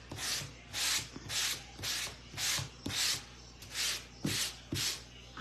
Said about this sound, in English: I'm going to sand this and distress it.